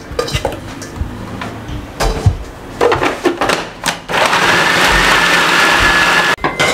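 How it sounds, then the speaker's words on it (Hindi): An electric chopper whirs steadily for a couple of seconds as it chops onion, garlic and ginger, preceded by clattering of the bowl and lid being handled close by. "इसको चॉपर में डाल के चॉप कर लें"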